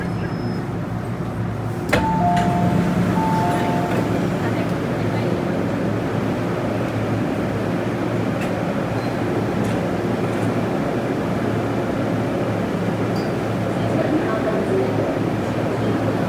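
Steady rumble of an MTR Island Line M-Train C430 metro running between North Point and Chai Wan, a continuous loud interior roar with a brief clunk and tone near the start.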